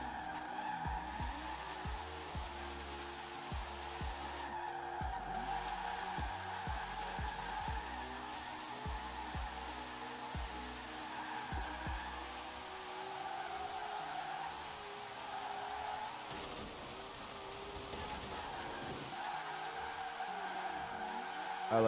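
A car drifting on snow, engine revving up and down in steady cycles as the tires skid and slip continuously, loud and close with no talking.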